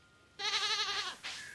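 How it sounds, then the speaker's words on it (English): A goat in Stardew Valley lets out one wavering, nasal bleat, followed by a brief second call, fairly close and alone. "Okay, goat."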